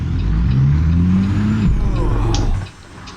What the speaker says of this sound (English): Rev up.